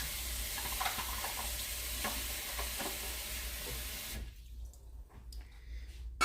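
Brand-new metal canning lids and rings go into water while chicken stock is being canned. Water sloshes and swirls close by for about four seconds, then falls quieter, with a sharp clunk at the very end.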